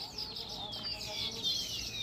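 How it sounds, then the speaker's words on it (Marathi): Sparrows chirp among trees and bushes beside a flowing river, thin high twitters sounding faint and steady over a soft background hum. "ऐकता का चिमण्याचा"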